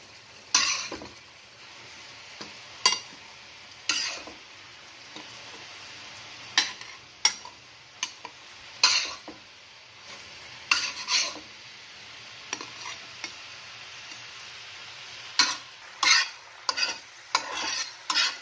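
Brinjal pieces frying in oil in a pan, a steady sizzle broken by sharp clinks and scrapes of a utensil as pieces are turned and lifted one by one, close and fairly loud.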